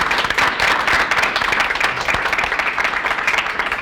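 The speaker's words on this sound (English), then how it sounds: "Again, a round of applause for Ilea." Audience at an innovation showcase event applauding a presenter, a full, steady burst of many hands clapping that stays loud and even from start to finish.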